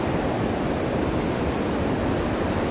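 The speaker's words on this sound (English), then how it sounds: "Oh, you just got to love a waterfall." Steady, dense roar of rushing water, loud and continuous with no breaks, like a waterfall heard from close by.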